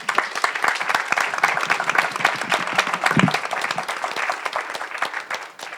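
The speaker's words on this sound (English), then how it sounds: "Can we give Walter just a small round of applause?" Audience at a coronavirus talk giving a speaker named Walter a round of applause: dense, steady clapping from a room of people, loud and sustained for several seconds with no voices over it.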